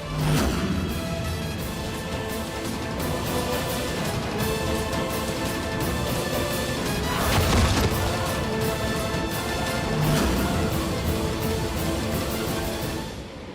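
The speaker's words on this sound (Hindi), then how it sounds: "ये शीशा हमें तोड़ना होगा।" Glass being smashed in a dramatic TV serial scene, with loud broadband crashes and impacts over a dense music bed throughout, the strongest bursts near the middle and toward the end.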